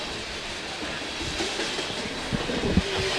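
A train rolls along the track beside a soccer field during a college men's match, a steady close rumble and clickety-clack of rail cars with hiss, carrying evenly through the whole stretch with a few sharper clanks near the end.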